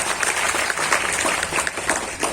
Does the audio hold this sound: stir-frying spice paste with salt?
no